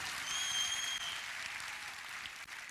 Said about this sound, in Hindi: जोरदार तालियां बजाइए अपने लिए।